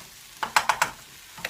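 A spoon stirs English mustard into a pan, giving a few quick scraping clicks and taps in a short burst, close and alone.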